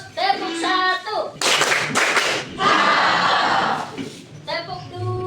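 A group of children claps a rhythm pattern in a classroom icebreaker, with a few sharp bursts followed by a longer stretch of rapid clapping, framed by a teacher's voice before and after.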